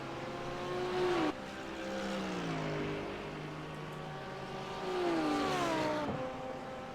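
GT3 race cars run through the horseshoe at Circuit Gilles Villeneuve, their engine tones rising and falling through shifts at a distance, one car's pitch dropping sharply as it passes.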